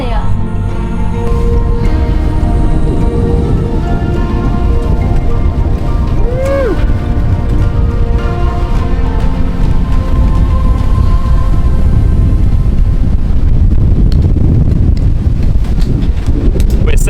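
A sailboat moves at speed under sail on open sea off the coast of Corfu, with heavy steady wind buffeting and rushing water close by, while a person talks over the noise.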